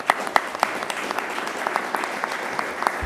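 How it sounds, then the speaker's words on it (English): An audience at an awards announcement for a mayors' city challenge applauds, a steady spread of clapping hands with a few sharper claps standing out, moderately loud. "Let's give them a big round of applause."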